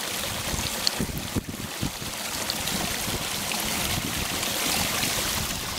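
Stream water gushing and rushing steadily into a Platypus Big Zip bag outdoors, a continuous broadband wash of flowing water close by with no voices.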